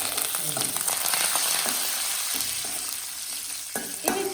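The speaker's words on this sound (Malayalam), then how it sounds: "ഇനി നമുക്ക് ഇതിൽ കുറച്ച് കറിവേപ്പില ഇടാം." Curry leaves crackle and sizzle in hot oil as a tempering for Kerala-style rasam, a loud, steady frying hiss with sharper pops and a stirring scrape near the end.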